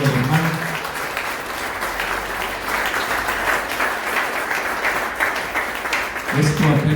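A church congregation at a pastor's conference applauds together in a sustained, moderately loud burst of clapping, with a voice heard briefly at the start and again near the end.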